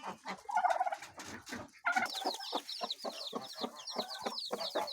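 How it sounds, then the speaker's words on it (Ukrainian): Turkeys gobble and cluck in a farmyard flock, with hens and geese nearby, in a dense, busy chorus of repeated calls, some loud and near, others overlapping through the whole stretch. "гарненькі індики, індички"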